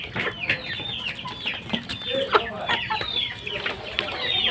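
Farm chickens feeding close by cluck continuously in overlapping, busy bursts, with sharp little calls and pecking noise and no talk.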